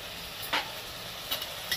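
Kashmiri chili powder, hot chili powder and turmeric sizzle faintly in oil as they are stirred for a rohu fish masala, with a few brief scraping bursts from the stirring.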